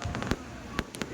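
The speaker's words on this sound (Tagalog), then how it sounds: "Oh, dalawa yung fireworks display." Fireworks display at a religious procession, several distant pops and crackling bursts over a steady crowd murmur outdoors.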